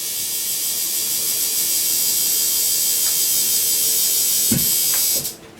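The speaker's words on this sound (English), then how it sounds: "actually run your needle in the cup" A tattoo machine runs with its needle dipped in a rinse cup, giving a steady, loud electric buzz close by that holds for about five seconds, then cuts off after a few brief rattles.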